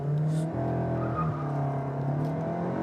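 Cupra Leon VZ accelerating hard from 0 to 100 km/h, a sustained engine roar heard from inside the cabin with steady pitch steps through the gears.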